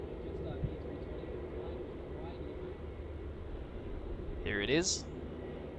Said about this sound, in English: Oh, here we go. It's a special livery. Jetstar A320,